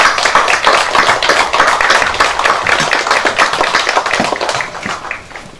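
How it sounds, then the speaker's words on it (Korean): An audience at a party caucus meeting applauds a newly elected floor leader: a burst of many hands clapping, loud and close, that gradually thins and fades toward the end. "우리 다 같이 힘찬 경례의 박수를 보내주시기 바랍니다"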